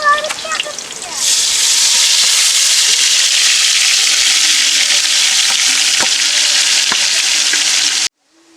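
Shallots and garlic paste hit hot oil for a Palakkad-style Rawther biryani, bursting into a loud, steady sizzle that fills the whole stretch after a brief clatter, then cuts off abruptly.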